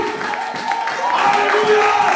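Church congregation cheering and acclaiming Jesus, a dense crowd roar of many voices shouting and ululating together, swelling louder toward the end.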